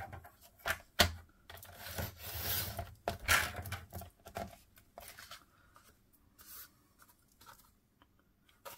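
Card stock for a Christmas card trimmed on a paper trimmer, close scraping slides and sharp cutting strokes, with handling rustles between them in a quiet room.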